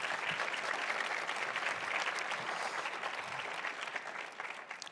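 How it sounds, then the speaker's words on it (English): A lecture audience gives the lecturer a round of applause, a dense, even clapping from many hands across the room, held steady for several seconds and tapering slightly at the end. "I'd like to give you a round of applause"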